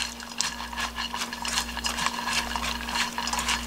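Seasoned dried squid strips in a soy-based dressing are tossed and worked by hand in a bowl, making a steady, close, repeated squishing and rustling with a faint constant hum behind it.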